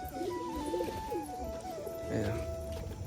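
Domestic pigeons coo repeatedly in low, rolling phrases beside their village coop, a steady close murmur of several birds over faint background noise.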